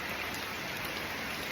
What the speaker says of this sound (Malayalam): നിപ്പില്ലാത്ത മഴയല്ലേ